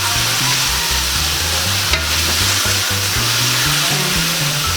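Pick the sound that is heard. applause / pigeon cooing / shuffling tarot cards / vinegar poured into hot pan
vinegar poured into hot pan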